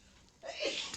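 A single sneeze at a tabletop game session, a quiet intake followed by a sharp, breathy burst in the second half, fairly close and alone with no talk over it.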